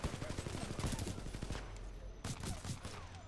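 Rapid bursts of pistol and automatic gunfire from the first-person shooter Titanfall 2, a dense crackling volley that runs throughout, with a player talking over it.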